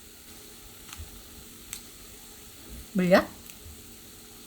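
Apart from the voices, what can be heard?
spicy sauce of soy sauce, chili flakes, corn syrup simmering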